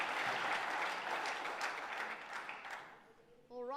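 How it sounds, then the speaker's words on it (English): A school event audience gives a loud round of applause, a dense wash of clapping that fades over a few seconds before a voice starts speaking at the end. "One more round of applause."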